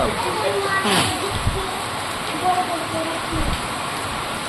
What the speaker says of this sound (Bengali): কি বৃষ্টি, বৃষ্টিতে মানুষ যেতে পারছে না।